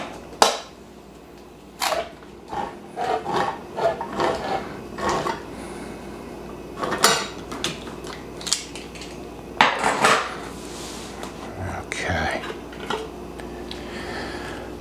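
Metal cans of tomatoes are opened in a kitchen while making homemade tomato sauce, giving a run of sharp clanks, scrapes and metallic clinks in irregular bursts, close and fairly loud, with no talking.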